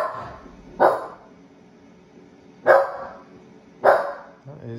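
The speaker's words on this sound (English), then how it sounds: "Is the farm dog Rocky not happy with them?" A farm dog in Farming Simulator 19 barks three times at spaced intervals, each bark a short sharp burst over a quiet background hum.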